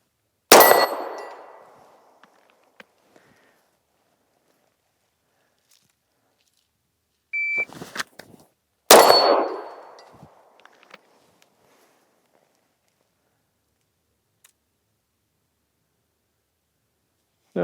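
Pistol shots from a P320 X Carry ringing off a steel target at about 10 to 12 yards outdoors: two sharp, loud impacts several seconds apart, each trailing into a metallic ring, with faint footsteps and small clicks between.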